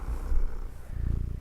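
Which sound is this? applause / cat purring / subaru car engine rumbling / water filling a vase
cat purring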